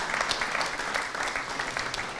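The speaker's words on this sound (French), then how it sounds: "on peut l'applaudir" Audience applause at a French business association's general assembly conference on energy and competitiveness, a steady dense clapping that holds evenly throughout the short stretch without pause.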